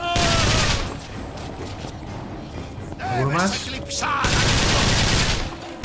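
Gunfire in the video game Bioshock Infinite: loud bursts of rapid shots at the start and end, with combat noises and a voice speaking in between.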